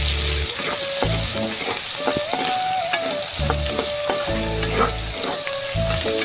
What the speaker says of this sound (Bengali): পেস্টটা একটু লাল লাল করে ভেজে নেব